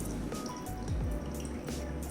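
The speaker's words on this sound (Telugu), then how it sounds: "ఈ వెజిటబుల్స్లో ఉన్న వాటర్ అంతా ఇలా స్క్వీజ్ చేసేసుకోండి." Grated vegetables are squeezed by hand for a cutlet, releasing a close, soft trickle and drip of water with faint squishing, steady and low throughout.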